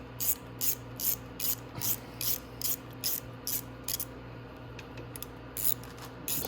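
Ratcheting bolt tightening on the clutch cover of a Venom 125cc motorcycle, a close, steady run of short clicking strokes over a low steady hum, with no talking.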